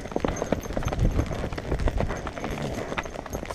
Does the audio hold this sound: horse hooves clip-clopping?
yes